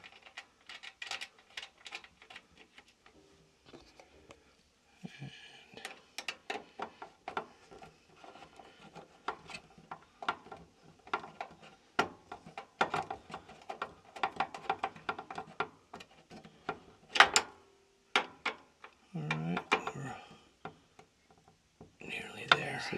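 Screws tightened on a Whirlpool Duet washer door hinge, heard as close, irregular ratcheting clicks and scraping bursts with quiet gaps, occasional louder clanks and rustles, and no voice.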